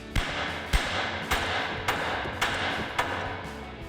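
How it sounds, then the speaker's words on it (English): Six sharp hammer blows land on a Chevrolet Silverado 1500 steering knuckle, roughly one every half second. The metallic strikes sound close, loud and ringing, with no talk over them. "we'll take a hammer and smack the knuckle here to pop that free"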